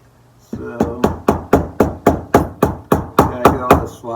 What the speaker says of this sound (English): I'm just hammering them in.